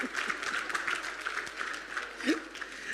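A crowd at a science buskers festival claps in a steady round of applause, moderately loud and continuous, with a brief voice or cheer near the end.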